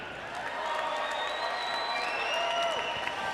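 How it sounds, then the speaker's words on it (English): Fight-night crowd at a combat sports event applauds and cheers steadily as a fighter is introduced, a dense continuous wash of clapping with scattered whistles and shouts. "Please give a warm round of applause to Paul Djelaj."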